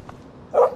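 A dog in the Life is Strange game gives a single short bark near the end, fairly close, after a quiet stretch with faint background.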